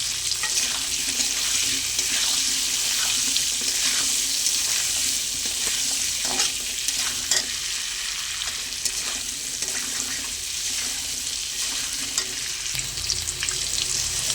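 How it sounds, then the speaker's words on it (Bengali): A steady, close sizzle of potatoes frying in hot oil with salt and turmeric continues throughout, with faint stirring scrapes and no talking. "আলুগুলো আমি ভালো করে ভেজে নেবো"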